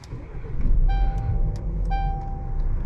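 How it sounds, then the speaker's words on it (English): A 2019 Jaguar E-Pace started with its start-stop button inside the cabin: a low engine rumble swells and settles while two short electronic chimes sound about a second apart. "starting it is as simple as pressing the start stop button over here"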